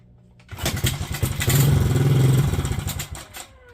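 Kawasaki KLX 110 dirt bike with a neglected carburetor, its small single-cylinder engine starting and running on choke, a close, loud, steady clattering putter that swells mid-clip and then tapers off.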